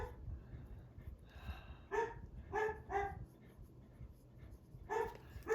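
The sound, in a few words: dog barking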